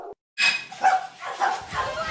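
A pet dog recovering from listlessness gives a short run of close, high yips and barks, about four quick bursts with whimpery tails.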